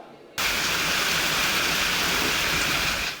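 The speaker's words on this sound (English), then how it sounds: "As heavy rain hits the capital" Heavy rain pours down on the streets of Pinewood in the capital, starting abruptly as a dense, steady hiss and roar that holds at full strength with no voices.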